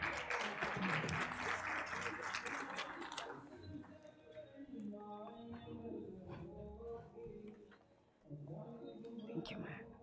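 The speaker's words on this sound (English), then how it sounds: "Let's give her a round of applause as she makes her way to the stage." Audience applause at a women's financial summit, a dense burst of clapping for the first few seconds that fades into a hall soundscape with speech and music, then swells again near the end.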